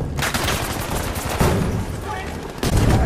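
A PIAT launcher fires in Battlefield 5 amid loud, dense battlefield gunfire, with sharp blasts around the half-second and near the end, and continuous rattling shots between them.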